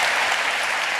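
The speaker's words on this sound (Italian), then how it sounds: "l'applauso contro la guerra è obbligatorio" A brief burst of audience applause during a Roberto Benigni stage talk in Italy, thick continuous clapping from a large crowd, loud and even throughout.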